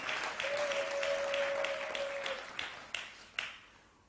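A church congregation applauds the Lord during a service, with a dense, sustained burst of clapping that tapers off into a few scattered final claps, with no talk over it.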